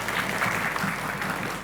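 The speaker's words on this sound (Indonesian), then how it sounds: "tepuk tangan dong." A school quiz competition audience in Palembang claps for a jury member in a short, steady burst of moderately loud applause.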